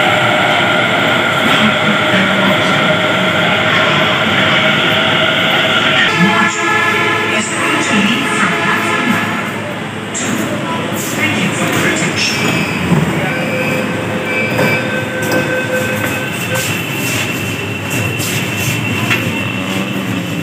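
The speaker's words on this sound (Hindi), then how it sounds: "फिर मेट्रो के लिए वेट करते हैं, यहाँ से आएगी मेट्रो तो दिखाते हैं आपको।" A Delhi Metro Pink Line train pulls into a station platform, loud and close, with rumbling wheels, squealing and rhythmic clacking that shifts as it slows, and someone talking briefly.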